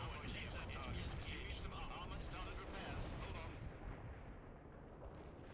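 Artillery fire in World in Conflict rolls as a continuous heavy rumble of distant booms and blasts, with someone talking faintly over it.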